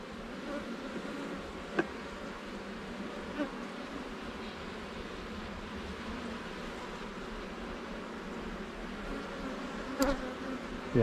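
A dense, steady drone of honeybees buzzes around an open hive, close and continuous, with a few soft knocks and faint handling noises and no clear talk.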